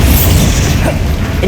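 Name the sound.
Confringo and Bombarda explosive spells, Hogwarts Legacy video game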